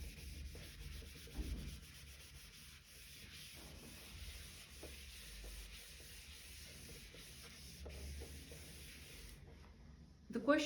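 A duster rubs writing off a classroom board in a surveying lecture, making long continuous scrubbing strokes with several short bursts, close and steady, with a faint hiss underneath.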